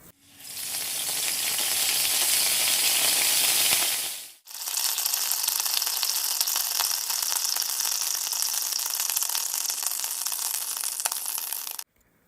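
Sliced onions and chillies fry in a kadai, a loud, dense sizzle that roars for about four seconds, drops briefly, then crackles on steadily until it cuts off near the end.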